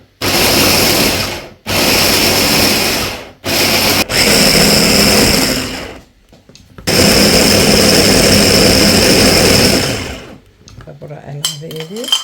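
An electric blender chops tomatoes in several loud whirring bursts, each cut off abruptly, with short pauses between and a longer final run, then a few soft clatters.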